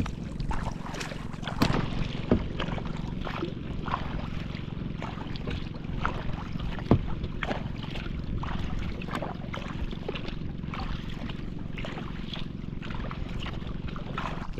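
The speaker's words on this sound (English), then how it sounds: "Okay, we are about 3 kilometers into this paddle." Sea kayaks paddling the open water out toward Marabut, Samar: a steady wash of wind and water with soft, regularly spaced splashes from paddle strokes. A couple of sharper knocks stand out, and nobody speaks.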